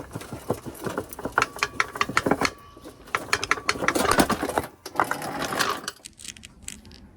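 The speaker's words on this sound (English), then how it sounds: "And then I'll undo the bolts either side, undo that, let it lower down slowly and pull it off." Bolts are undone on the exhaust of an Audi TT 225, heard as close, busy metallic ratcheting and clicking in quick bursts with short pauses between them.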